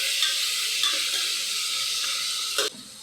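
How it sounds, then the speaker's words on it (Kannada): Coriander frying in a pan for tomato rice gives a steady, close sizzle and hiss with faint stirring scrapes that stops abruptly near the end. "ಸ್ವಲ್ಪ ಕೊತ್ತಂಬರಿ ಹಾಕ್ಕೊತಿದ್ದೀನಿ. ಕಲಿಸ್ಕೋಬೇಕು, ಚೆನ್ನಾಗಿ ಫ್ರೈ ಆಗಬೇಕು ಅದೆಲ್ಲ."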